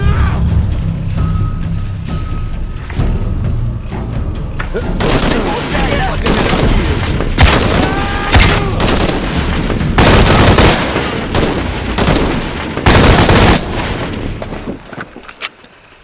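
Gunfire aimed at an intruder in Shadow of the Tomb Raider: repeated loud bursts of shots and sharp cracks build through the middle, with shouting voices heard early on.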